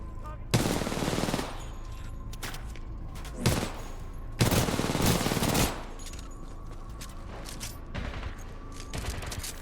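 Titanfall 2 gunfire comes in several loud bursts, a long volley, a short one, another long spray and a few fainter shots later, with quieter game ambience in the gaps.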